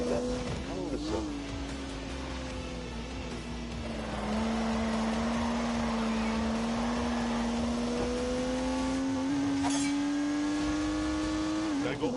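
A turbocharged 3-litre straight-six car engine in the racing game Grand Tour holds a steady, droning note that climbs slightly under load, with occasional shifts in pitch and a brief rise near the end, loud and continuous.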